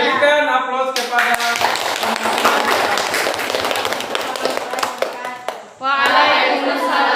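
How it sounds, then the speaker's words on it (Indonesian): High school students in an Indonesian classroom clap together in a dense burst of applause that lasts several seconds, with a teacher speaking before and after. "berikan aplaus kepada"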